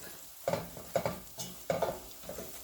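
Onion and green chilies sauté in a pan for a tomato curry, with four distinct stirring scrapes spaced about half a second apart over a faint sizzle.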